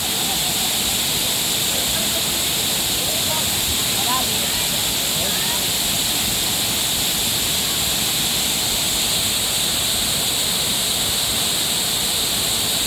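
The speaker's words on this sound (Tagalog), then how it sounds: "Nagbabagsakan ng tubig ah." Water pouring at Balagbag Falls in Quezon, a constant broad roar of falling water that fills the whole clip evenly, close and loud, with faint voices barely rising above it.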